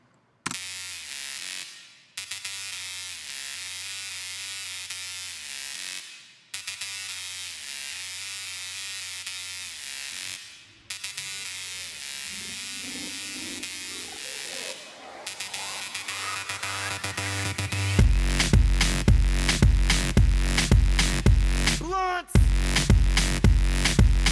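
A buzzy, harmonically rich sawtooth synth lead plays a repeating pattern, a rising filtered sweep builds underneath, then a loud kick-driven section bursts in near the end.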